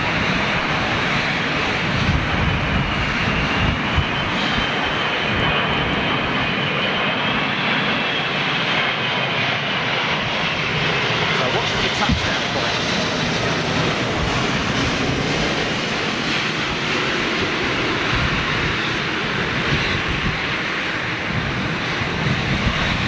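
A Cathay Pacific Airbus A350-1000 lands at Manchester Airport using inboard reverse thrust only, a loud, sustained roar of engines and rushing air that swells and holds across the whole stretch.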